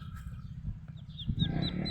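Month-old Peking ducks call from close by, with a muffled murmur of low quacks and then a run of short, higher calls repeating rapidly toward the end.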